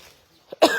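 A single short cough near the end, loud and close, preceded by a faint quieter breath or throat sound.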